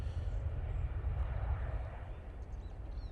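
A Loganair ERJ145 jet at Manchester Airport, a steady broad engine roar that holds loud and constant throughout with no voices over it.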